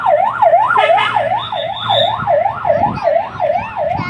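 A loud, close vehicle siren wails in fast, regular rising and falling sweeps, about two cycles a second, over faint road noise, with no talking.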